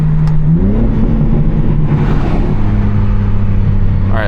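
Tuned BMW G80 M3 engine building RPM from inside the car, a loud, continuous drone whose pitch climbs early then holds steady, with a brief whoosh and a rising whine near the end.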